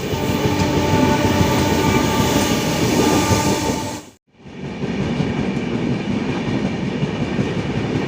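Passenger train pulling out of Berhampur station, heard as a loud, steady rumble and rattle of wheels and cars close by, dropping briefly away before the continuous rolling clatter resumes.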